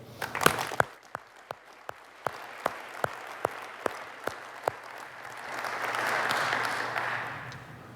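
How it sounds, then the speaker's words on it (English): Audience applause at a cancer research symposium, starting as a steady run of individual claps and swelling into a fuller, sustained round from the crowd before fading out. "I'd like you all to give a round of applause for their generosity."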